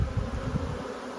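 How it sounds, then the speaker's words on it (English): Honeybees fanning at a hive entrance: a steady, close, low buzzing drone that holds for just over a second, with no voices. "These bees are still fanning."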